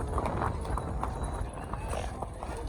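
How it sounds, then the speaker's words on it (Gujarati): Hooves of a horse out on a training ride clip-clop in a quick, steady rhythm on the road, under people talking. "નિલેશભાઈ નું ઘોડું વાયલું આવે છે"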